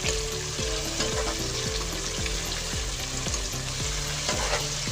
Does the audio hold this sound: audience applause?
no